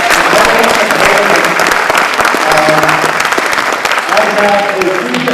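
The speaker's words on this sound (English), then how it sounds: "Round of applause for that" An audience at a small business showcase gives loud, close applause lasting several seconds, dense clapping with a few voices mixed in.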